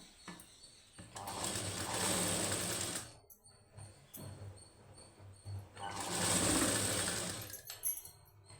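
Two bursts of sewing machine stitching on a plain high-neck blouse, each a few seconds long with a quiet pause of fabric handling between them.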